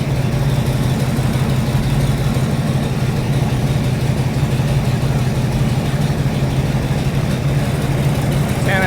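A rat rod build car's engine idles steadily and loudly up close, a continuous low rumble with no breaks, heard during a timing run at a rat rod build-off event.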